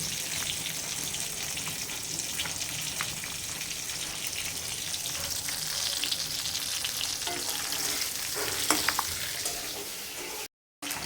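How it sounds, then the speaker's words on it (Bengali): A hilsa fish head fries in hot oil with a loud, continuous sizzle, close by, with a few sharper crackles and clinks late on and a brief dropout near the end. "এখন মাথা ভাজা হয়ে গেছে, মাথাটি নামায় ফেলাইতেছি।"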